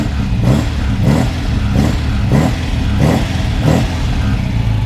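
MGB GT engine idling at low revs with a patched, wobbly exhaust, a steady rumbling drone with regular rhythmic pulses about every half second, close and alone.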